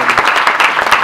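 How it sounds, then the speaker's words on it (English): Loud, close applause from a crowd at a community performance event, a brief burst of dense clapping with no speech on top. "Everyone can just give a round of applause for Fern."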